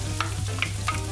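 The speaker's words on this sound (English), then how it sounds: "Add again a little bit of oil, and then on we're gonna cook quickly this onion." Onion cooking quickly in a little oil in a pan for a beef liver sandwich, a short burst of steady sizzling with a few light stirring scrapes, close and alone.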